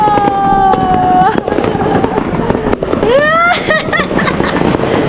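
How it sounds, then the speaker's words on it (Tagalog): New Year fireworks in Sydney, Australia: repeated sharp bangs and crackling bursts, some with rising whistles, fairly close and loud, while people exclaim and talk excitedly over them. "A lot of fireworks today."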